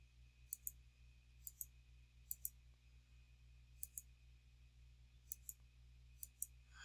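Sharp computer mouse clicks, mostly in quick pairs, repeat every second or so while a shape is drawn in Google Earth, faint and close over a steady electrical hum.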